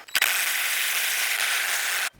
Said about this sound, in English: I'm just using my little 3/8 impact to speed this up.